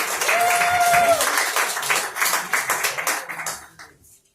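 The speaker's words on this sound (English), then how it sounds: "Keep clapping. Keep clapping." Comedy festival audience applauding a comedian, dense clapping close and loud at first, then thinning into scattered claps and fading out.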